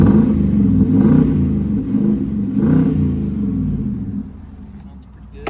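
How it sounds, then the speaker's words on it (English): Deep, throaty engine revving from a 2017 Nissan Titan Pro4x pickup with an aftermarket side-exit exhaust, a loud steady rumble with swells of throttle that fades near the end. "So it does have an aftermarket exhaust, comes out the side here."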